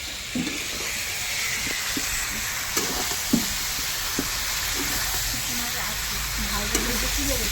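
Dried fish curry fries on a wood stove at a picnic, a steady broad sizzle and hiss with occasional soft stirring knocks, close and continuous throughout.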